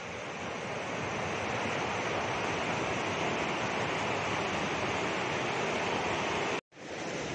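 Spring water rushes in a constant dense hiss in a Himalayan national park near Gushaini, Kullu, loud and close throughout before cutting out abruptly for a moment near the end.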